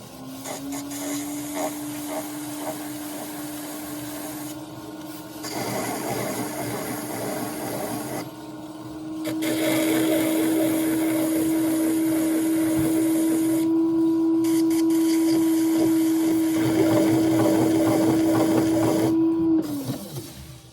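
A chatter tool works a turned piece on a lathe, producing a loud, steady high-pitched buzzing chatter over a whirring motor, with short pauses between passes.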